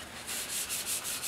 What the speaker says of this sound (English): And now I'm just sanding out some areas to kind of make this look a little oldish.